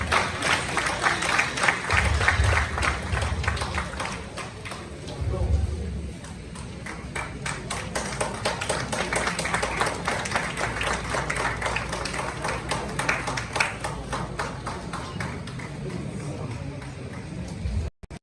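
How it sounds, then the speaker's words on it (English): Sustained clapping from an audience at a startup summit in Ghana runs throughout, with a voice talking over it now and then before the applause cuts off at the end. "a very big round of applause"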